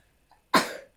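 A single sharp sneeze bursts out close by after a faint intake of breath, loud and abrupt, trailing off quickly into silence.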